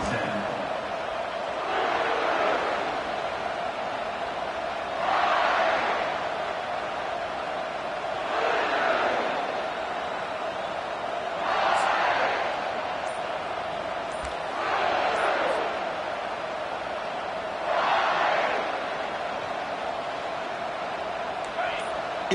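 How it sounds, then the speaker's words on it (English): A college football stadium crowd at a Colorado State game roars loudly and steadily, swelling in rhythmic chant-like surges every few seconds over a constant din. "It's early, but this crowd is fired up. Listen to this noise here."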